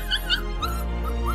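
Puppy whimpering: a few thin, rising high-pitched whines and yips, close by, over a low steady background hum.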